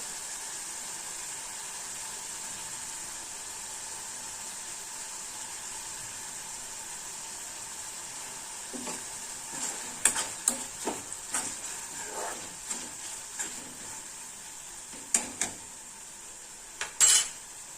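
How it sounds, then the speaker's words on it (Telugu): Tomatoes cooking in a pan for a curry, a steady soft sizzle throughout, later joined by irregular scrapes and clinks of a spoon stirring against the metal pan, fairly quiet and close. "టమాటా బాగా మగ్గుతుంది, అప్పుడప్పుడు కలుపుతూ చూస్తుండాలండి"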